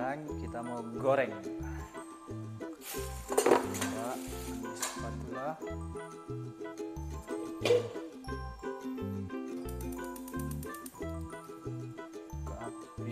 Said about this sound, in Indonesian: Sekarang kita mau goreng.